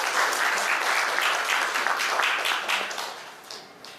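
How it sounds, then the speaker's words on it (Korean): Church congregation at a family worship service applauds to welcome young children moving up into the adult service, steady sustained clapping from many hands that fades over the last second. "우리 박수로 환영하고 축복하십시다."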